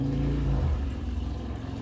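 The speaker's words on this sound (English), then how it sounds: "there's a loud motorcycle going by the window" A loud motorcycle passes outside a window, its engine droning heavily for under a second before trailing off into a lower, fading rumble.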